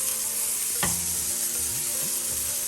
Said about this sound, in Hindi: फ्लेम मीडियम पे रखा है, शैलो फ्राई हो रहा है अच्छा से